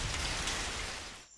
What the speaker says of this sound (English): that rain ruined everything